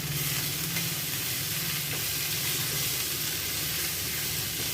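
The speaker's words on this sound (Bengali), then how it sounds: "কিছুক্ষণ কষিয়ে নেব।" Spiced masala sautéing in a pan, a steady close sizzle and frying hiss running unbroken the whole time with no voices.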